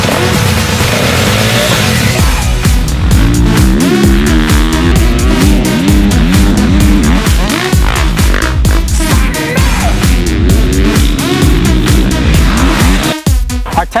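A 2020 KTM 450 SX-F dirt bike with Ride Engineering modifications rides a motocross track, its loud engine rising and falling in rapid revs and shifts, close and continuous throughout.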